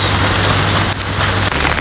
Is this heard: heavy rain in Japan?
yes